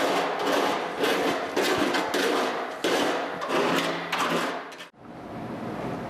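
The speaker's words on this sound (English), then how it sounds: "So just take a small file, and I wouldn't recommend using a grinder or you'll just make this metal thin." A small hand file deburrs the cut edge of a steel lower repair panel on a 1961-76 Triumph TR4 or TR6 front fender, with close, rhythmic rasping strokes that run steadily and then stop abruptly near the end.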